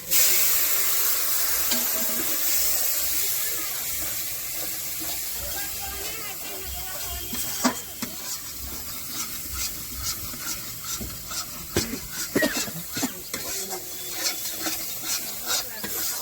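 Spice masala frying in a pan after water is added, a steady hiss and sizzle with scattered crackles and pops, close, with stirring scrapes and no voices.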